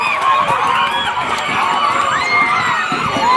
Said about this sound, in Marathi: आठवीच्या मुलांचा जल्लोष